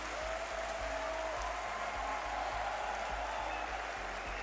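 An esports arena crowd at a Rocket League major quarterfinal claps along in a steady rhythmic beat, evenly spaced sharp claps over a background of crowd murmur.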